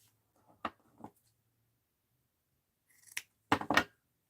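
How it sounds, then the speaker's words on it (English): Scissors cut a sheet of paper in half, with two short crisp snips, a pause, then a quick cluster of louder snips close by and no talking. "Now let's cut this in half."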